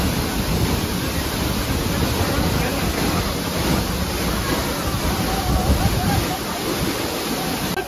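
Tiger Falls waterfall in Chakrata roars in a steady, dense wash of falling water, loud and close, with no break for the whole stretch.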